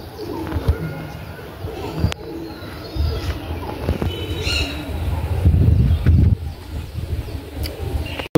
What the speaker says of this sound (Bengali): পায়রাটা মাদা পায়রা আছে